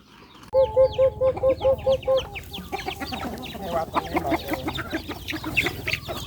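Many farm chickens cluck and squawk together while being given unhusked rice, a close, busy chorus that starts with a run of loud rhythmic calls and then becomes a dense, overlapping clamour.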